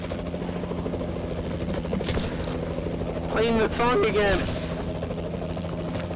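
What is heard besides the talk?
evac aircraft arriving in Call of Duty Zombies video game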